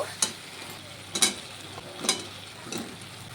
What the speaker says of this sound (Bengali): এখন আলু আর এঁচোড়টাকে দিয়ে দেব